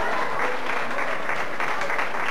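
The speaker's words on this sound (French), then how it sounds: "Et j'aimerais qu'on applaudisse également Olga" Sustained applause fills a school end-of-year show audience, a thick, even wash of many hands clapping together for the whole stretch.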